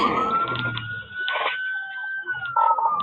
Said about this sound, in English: Don't tell me these people can't hear those sirens.